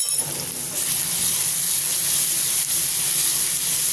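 Garlic-ginger paste frying with softened onions in a pan: a continuous, loud, close hiss of sizzling oil, even and unbroken throughout with no voices.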